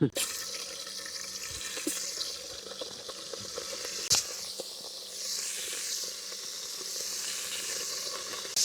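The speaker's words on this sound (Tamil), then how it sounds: "கருவாடை வந்து நாங்கள் பொரிச்சு குழம்பு வைக்க போகிறோம்." Salted dried fish (karuvadu) frying in a pan, a continuous hiss and crackle of hot oil with occasional sharp spits and pops, close and fairly loud throughout.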